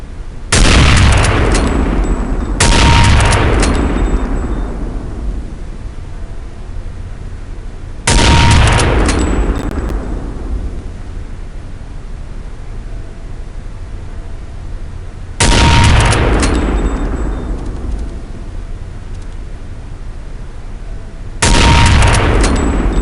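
Five loud, booming sniper rifle shots fired at targets in Counter-Strike: Condition Zero, spaced several seconds apart, each with a long fading echo tail and quiet between shots.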